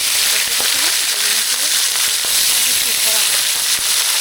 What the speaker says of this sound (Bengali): এবার দেখো, এই মাছগুলো আমি ভেজে নিচ্ছি।